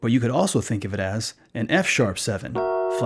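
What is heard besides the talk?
No everyday noise stands out behind the speech.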